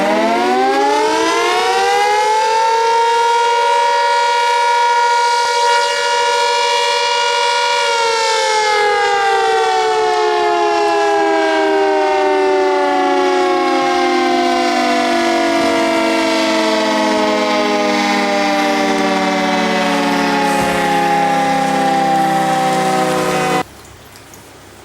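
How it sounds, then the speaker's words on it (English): A Wellington tsunami warning siren wails loud and alone, its rising tone holding steady, then sliding slowly downward for over twenty seconds before cutting off abruptly. "I can hear that siren clear as mud."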